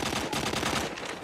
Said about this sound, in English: This is like my first time using a Barrett 50 cal.